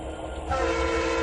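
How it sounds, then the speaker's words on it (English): Train horn sounding in the Trainz 2019 rail simulator, a loud steady tonal blast that starts partway in and holds over low rumbling engine noise. "honk the horn"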